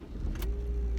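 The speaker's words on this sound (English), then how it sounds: "There you go. Car started." A manual car's engine turns over and catches, settling into a low, steady idle hum with a brief higher burst of noise as it fires, close and clear with no talking.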